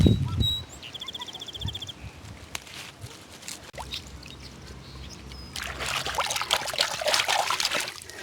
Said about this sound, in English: So I just try and rinse all the dirt off if I can.